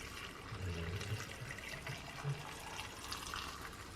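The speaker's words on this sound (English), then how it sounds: "I'm going to pour the apple cider vinegar over it." Apple cider vinegar poured from a container over garlic cloves in a jar, a steady liquid splash and trickle that runs close and fairly quiet for several seconds, with low thumps from handling.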